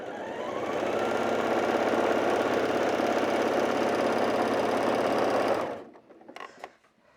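A sewing machine stitches quilt strips together in a quilt-as-you-go project, its fast, steady mechanical whirr running close and loud for about five seconds before stopping, followed by a few faint handling clicks.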